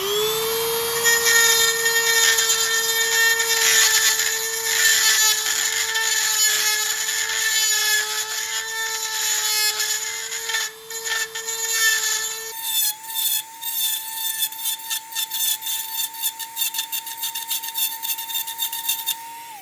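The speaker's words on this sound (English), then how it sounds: "I'm gonna try like this drywall bit. I'll see if this will grab enough in aluminum." A drill fitted with a drywall bit boring into aluminum on a Saab 9-3 convertible top part, a loud high-pitched whine held steady, then shifting pitch and stuttering as the bit grabs.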